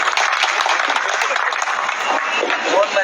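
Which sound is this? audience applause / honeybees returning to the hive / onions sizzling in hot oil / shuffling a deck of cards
audience applause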